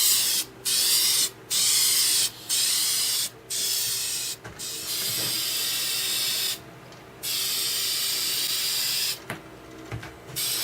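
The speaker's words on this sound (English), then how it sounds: "gonna go in there and apply clear lacquer spray" Minwax clear lacquer sprayed from an aerosol can onto a turned wooden piece comes as a loud, close hiss in repeated bursts, several short blasts and then longer sustained passes separated by brief pauses.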